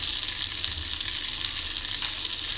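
Ivy gourd (tondli) fries in a pan with a dense, even sizzle that stays close and constant throughout, with only faint stirring and no voices.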